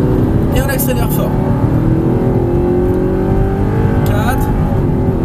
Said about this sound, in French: Et on accélère fort.